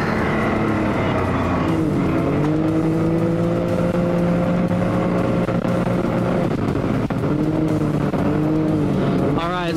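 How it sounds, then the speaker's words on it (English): An off-road sand buggy on SS360 paddle flotation tires drives with a loud, continuous engine drone that rises and falls as the back end slides sideways around a corner, under a constant rush of wind and motion. "our back end just slid around sideways as we came around that corner"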